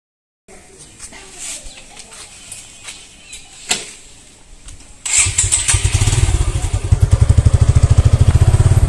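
A new Pulsar motorcycle starts up after a wet, muddy ride, then settles into a loud, close, steady idle with rapid regular engine pulses. Birds chirp faintly in the background before the start.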